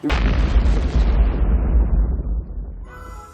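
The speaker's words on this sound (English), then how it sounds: "That was really a bomb." A bomb explosion in a scene from the holiday film Jingle All the Way, a loud deep boom that bursts suddenly and rumbles on for about three seconds before fading out.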